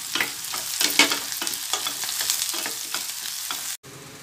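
Shallots and green chilies frying in oil in a pan, a close crackling sizzle punctuated by rhythmic spatula scrapes, ending abruptly near the close with only quiet sizzle left.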